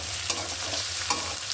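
Cinnamon sticks and cardamom pods sizzle in hot oil, with a soft steady frying hiss and a couple of quick stirring scrapes close by.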